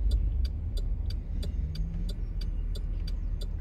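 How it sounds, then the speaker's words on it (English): A city bus rumbles along a night street, a low, steady road drone with a faint repeating ticking over it. No one speaks. "City bus right here."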